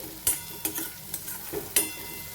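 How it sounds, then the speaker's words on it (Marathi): Onion and tomato sautéing in a pan over medium heat, a soft sizzle punctuated by four or five crisp utensil scrapes and taps as the mix is stirred, close and alone. "एक दोन मिनिटं कांदा छान परतून घ्यायचा मीडियम हीटवर"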